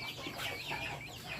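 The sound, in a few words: chicken clucking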